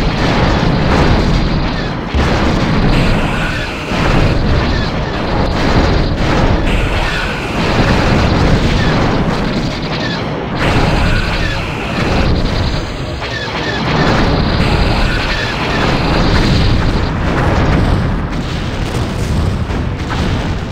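Repeated heavy booms and blasts from a space battle game, a starship firing torpedoes at TIE Defenders, roll in loud waves over a dense rumbling backdrop for the whole stretch.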